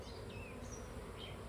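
Honeybees hum in a low, steady drone from an opened beehive, faint and continuous, with a few higher buzzing passes drifting close by.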